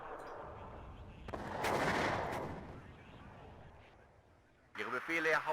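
Artillery fire in the WARNO war strategy game: a heavy booming blast swells and rolls away, then a voice speaks briefly over it.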